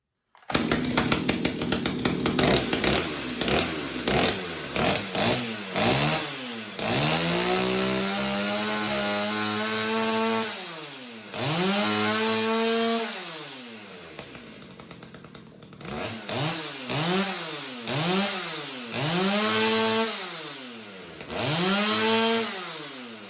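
A Stihl 029 chainsaw with a modified muffler sputters to life, then revs repeatedly in loud rising and falling bursts, its raspy, buzzing engine close by with brief idling gaps.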